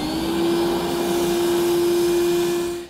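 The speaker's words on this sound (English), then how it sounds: "Now I'm just gonna come back and vacuum up all my metal shavings and clean it up a little bit." A vacuum cleaner drones steadily close by with a high whine and airy rush, running continuously without pause, sucking up metal shavings after drilling a 2016 Ford F-250 Super Duty.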